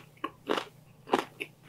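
Crisp bites into meatless fried eggplant sisig coated in a crunchy batter, heard as a few distinct crunches spaced apart, close and fairly quiet with no talking.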